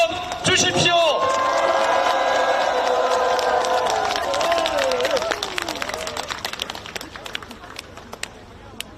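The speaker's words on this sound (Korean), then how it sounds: "여러분 커다란 박수와 함성 주십시오" A crowd at a political rally in Boryeong, South Chungcheong, bursts into cheering and clapping, with horn-like tones over the noise at first. The roar gradually fades into scattered claps.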